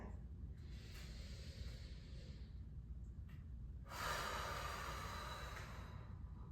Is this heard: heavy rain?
no